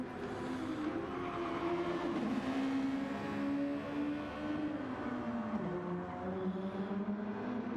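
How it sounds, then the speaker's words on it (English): A Super Formula race car in a sim racing game at Catalunya revs at full throttle, a steady droning engine note rising and shifting pitch through the gears, continuous and fairly faint. "He's allowing the revs to go full bore."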